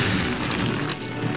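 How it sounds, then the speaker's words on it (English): An old cannon fires in the Skylanders Spyro's Adventure video game, giving a loud, dense boom with a rumbling crash that fills the short moment without pause. "Use the action button to fire the cannon."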